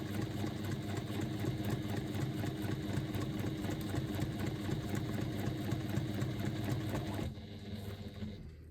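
A sewing machine runs steadily, stitching lining fabric for a faux leather zipper pocket, with a close, continuous rapid mechanical whir and a buzz of needle strokes that slows and stops near the end.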